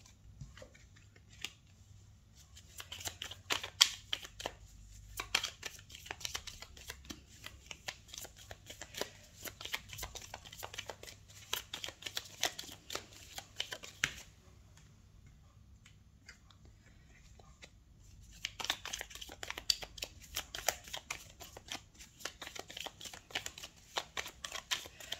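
Tarot deck shuffled by hand in repeated bursts of crisp riffling and card-flicking clicks, close and quiet, with a pause midway before the shuffling resumes.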